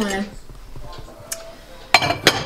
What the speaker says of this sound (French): Et donc, ça, c'est ma petite vaisselle.